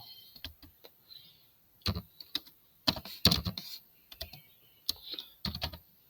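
Keys clatter on a computer keyboard in uneven bursts of close, crisp clicks with short pauses between them, the typing alone with no one talking.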